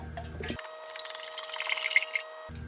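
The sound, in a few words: antifreeze being poured into a pot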